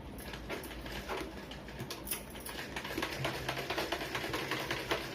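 A sewing machine stitches a blouse lining in a quick, quiet rapid patter of needle strokes, faint and steady, with slight swells in pace.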